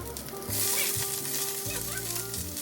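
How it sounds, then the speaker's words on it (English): Red bell pepper, onion, garlic and halved Campari tomatoes sizzle loudly in olive oil in a hot pan, a steady close frying hiss with light stirring throughout. "Olive oil in a hot pan, red bell pepper, onion, garlic, and Campari tomatoes cut in half."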